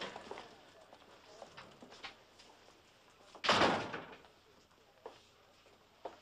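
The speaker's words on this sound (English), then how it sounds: "Close the door." A door shuts with a single loud thud partway through a tense office scene in the 1988 film Ladykillers, over a quiet room and faint background noise.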